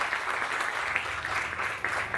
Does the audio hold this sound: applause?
yes